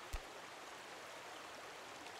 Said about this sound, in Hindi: सही है पानी की आवाज आ रही मुझे।